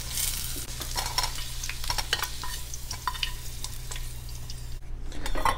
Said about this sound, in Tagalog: mga 4 na minuto ko po itong pinagulong-gulong sa mainit na mantika